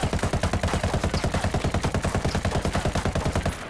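MK-17 rifle in Ghost Recon Wildlands firing a long, steady full-auto burst: loud, rapid, evenly spaced shots for nearly four seconds with no talk, tapering slightly at the end.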